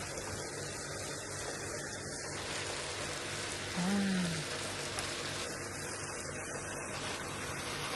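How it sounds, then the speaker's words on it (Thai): Steady rain patters in a soft, even hiss beside the Mekong at Chiang Khan, with a brief low tone rising in the middle. "นอนฟังเสียงฝน"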